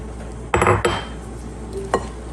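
Bread cubes tossed with olive oil and garlic butter in a bowl give a few quick clattering knocks and scrapes of dish and utensil, two close together and another a moment later, over faint background noise.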